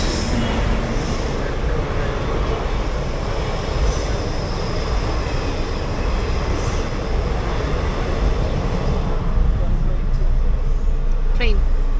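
A train rumbles past a level crossing in a loud, continuous roar of wheels and cars that fills the scene, with a brief squeal near the end and voices talking over it.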